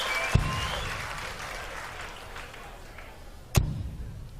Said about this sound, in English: The crowd know they've watched a terrific game of darts, and listen to that.